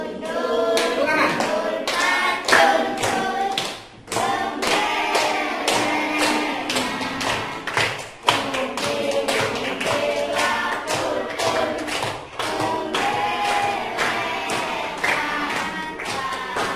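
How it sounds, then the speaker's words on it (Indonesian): A group claps together in quick, rhythmic bursts at a gathering, the hand claps close and dense with brief pauses between runs and faint voices mixed in. "Tepuk tangan."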